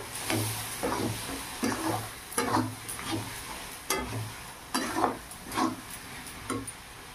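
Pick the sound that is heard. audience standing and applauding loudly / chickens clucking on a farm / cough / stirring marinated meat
stirring marinated meat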